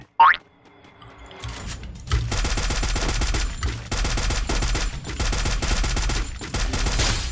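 Rapid automatic gunfire in a Free Fire match, video game, with a springy pop at the start, then sustained loud bursts of shots continuing with brief gaps, close and dense.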